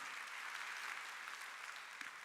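A church congregation applauds during a Sunday worship service, a steady, even wash of many hands clapping at a moderate distance, sustained without a break and with no voices over it.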